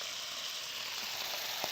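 Chicken stir-fry with red cabbage and broccoli sizzles steadily in a hot pan, a constant close crackling hiss with a small pop near the end and no talking.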